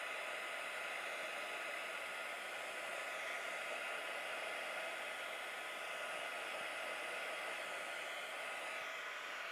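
A heat tool blows hot air over embossing powder to melt it, a constant close-up fan whir and hiss that runs steadily without interruption.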